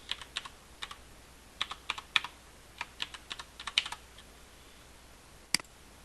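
Password being typed on a computer keyboard: quick, light key clicks in short irregular bursts, close and fairly quiet, ending with one final sharper press.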